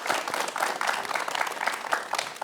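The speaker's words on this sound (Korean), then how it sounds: "박수 한번 부탁드리겠습니다" Audience applause from citizens at a Gwangju public town-hall event, a dense steady wash of many hands clapping throughout, moderately loud with no pauses.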